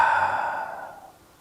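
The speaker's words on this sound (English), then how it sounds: "Take a nice big inhale through your nose and exhale out your mouth." A long audible exhale out through the mouth at the close of a shoulder-focused yoga class, a breathy sigh that starts fairly strong and fades away over about a second, heard alone with no talking.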